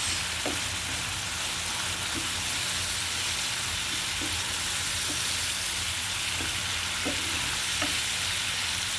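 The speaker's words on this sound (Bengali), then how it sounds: "এর সাথে এখন আমি দিয়ে দিচ্ছি কাঁচামরিচ।" Green chilies fry in hot oil with spice paste for a hilsa fish curry, a loud, steady sizzle close by, broken by soft, occasional knocks of a stirring spoon against the pan.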